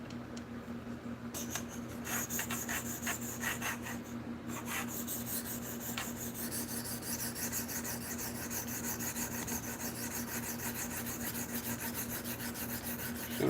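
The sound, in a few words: knife being sharpened on a KME sharpener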